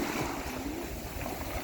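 Waves at Stanley Beach on Hong Kong's south side wash in as a steady broadband rush with low churning surges, fairly faint and continuous, with no talk.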